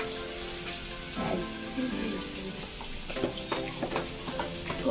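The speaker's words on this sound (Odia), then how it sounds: "ଆମ କଢ଼େଇରେ ବର୍ତ୍ତମାନ ପିଆଜ ତା ସହିତ କିଛି ମସଲା ପଡ଼ିଯାଇଛି, ସେଥିମଧ୍ୟରୁ ତେଜପତ୍ର, ଲଙ୍କା କିଛି" Onions with bay leaf and chilli frying in oil in a kadai, a steady close sizzle with brief crackling bursts and faint stirring clatter, no talking.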